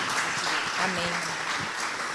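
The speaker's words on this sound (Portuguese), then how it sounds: "Aplauda o Senhor, queridos." Steady broadband applause from a church congregation fills the clip, with a voice briefly audible over the clapping.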